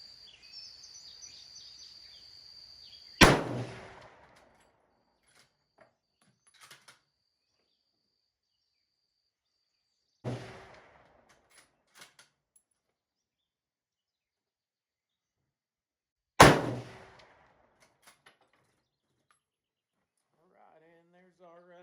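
Three sharp rifle shots fired one at a time at a 200-yard target outdoors, each a loud crack with a short fading tail, spaced several seconds apart amid near silence and faint background noise.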